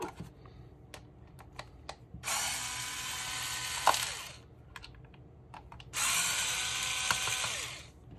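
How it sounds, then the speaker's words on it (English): A ratcheting screwdriver backs out T10 screws from the back of a myQ smart garage controller, giving two long sustained bursts of rapid ratchet clicking between scattered sharp taps and clicks of handling. "On the back here, we've got two screws that we gotta take out. I think this is a T10 that I'm using."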